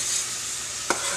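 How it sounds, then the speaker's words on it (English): Onion sauteing in a pan for a mustard-based grilling sauce, a brief burst of even sizzling hiss with a single quick stir or clack near the end, no voices. "I'm sauteing this first section."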